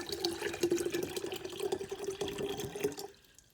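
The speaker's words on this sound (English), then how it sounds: "if I take my water bottle, which is about a liter, and I pour it in" About a liter of water poured from a bottle into an open container, a steady splashing trickle for about three seconds that stops abruptly, close and fairly quiet.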